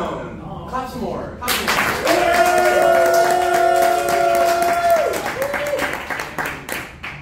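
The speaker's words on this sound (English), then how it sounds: "Clap some more" An improv comedy audience at iO claps for the team Keystone, a burst of applause rising and holding for several seconds before thinning out, with a voice speaking over it.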